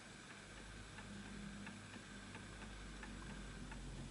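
An antique Enfield Westminster chimes mantle clock ticks in an even, steady rhythm, each tick faint but distinct and close against a quiet background hum.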